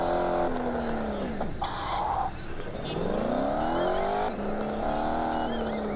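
Video game car from Gangstar Vegas revving and driving, engine pitch sweeping up and down through gear shifts for several seconds, loud and continuous with a brief dip mid-way.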